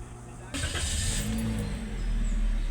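A Toyota Vios with a lit check-engine light and a failing air conditioner starts up, and its engine settles into a steady running hum close by, continuous and moderately loud.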